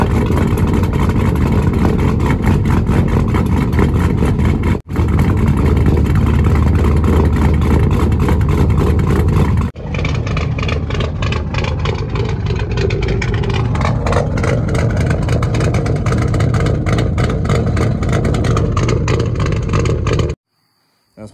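A 2005 cat-eye truck with a cammed 5.3 V8 and straight-pipe exhaust, recorded up close as a loud, choppy rumble that swells into revs, with a couple of brief breaks.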